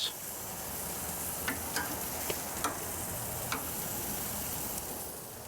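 Shrimp cook over an open fire, giving a steady hiss of sizzling with scattered small pops and ticks, all at a moderate distance and with no voices.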